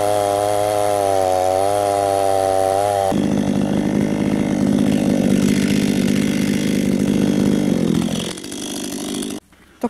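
A chainsaw idling, then revving up and biting into firewood logs, a loud sustained cutting drone that drops away near the end as the cut finishes.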